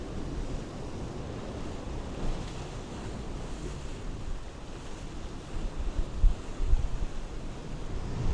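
Ocean waves wash in on Porthcawl beach in Wales on a misty day, a steady roaring surf mixed with wind buffeting the microphone, continuous and fairly loud with no talk.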